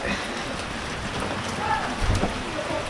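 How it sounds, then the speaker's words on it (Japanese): Steady rain falls outside a residential garage during a home inspection, a dense even hiss with a few heavier drips and a low thump partway through, faint voices in the background. "ちょっと雨降ってるな。"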